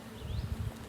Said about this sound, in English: let them hear the bees